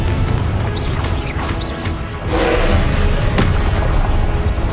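Booming blasts from a Confringo spell in Hogwarts Legacy on PS5, several thuds and crashes in a loud, dense game soundscape with no pause between them.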